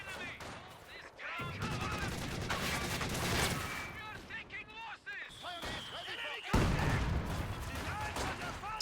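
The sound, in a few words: 120mm mortar barrage firing in video game Company of Heroes 2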